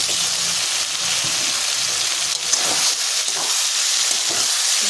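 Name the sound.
chicken frying in spice masala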